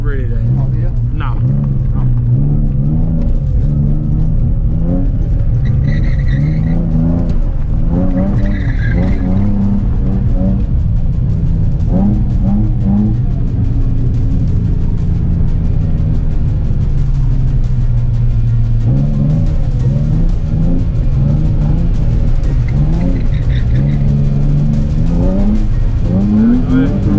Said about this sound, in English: A quick blip of the throttle was enough to initiate the drift